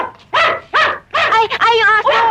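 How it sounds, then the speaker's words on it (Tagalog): A small poodle yaps in several quick, high-pitched bursts, fairly close, with short pauses between the barks. "Ay, yung aso! Uy, ang pudol!"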